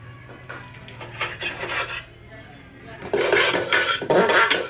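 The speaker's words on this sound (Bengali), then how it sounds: "তারপরে আমি হাতা দিয়ে সুন্দর করে একটু নেড়ে নেব" A ladle stirs lentils in a cooking pot for vegetarian khichuri, with scraping and clinking metal sounds that grow louder and busier toward the end, while a voice talks over it.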